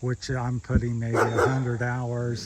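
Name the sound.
dog barking outdoors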